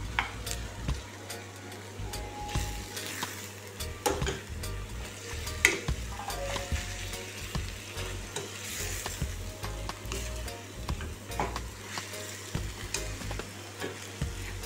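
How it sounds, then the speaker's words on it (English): Saltfish and pre-cooked tinned ackee fry in a pan with a continuous close sizzle, broken by scraping stirs and the odd clack of a utensil, with no talk. "We're gonna put our saltfish in."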